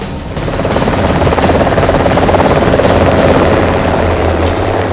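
An Apache attack helicopter thunders loud and close, its twin engines and rotor blades producing a steady, pulsing roar that swells slightly and holds for several seconds.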